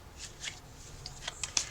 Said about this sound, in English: I have been shuffling these cards for a little while, so they're nicely shuffled.